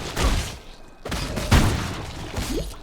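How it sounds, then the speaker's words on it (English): In the action RPG Path of Exile, explosions go off as a rapid cluster of loud booming and crackling bursts, with several heavy blasts in quick succession. "Lots of exploding stuff, that's always good."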